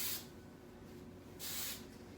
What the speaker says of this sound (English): And then I'm gonna take my hairspray